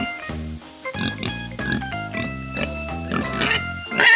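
Several short pig grunts and oinks punctuate a bouncy music backing track, close and moderately loud.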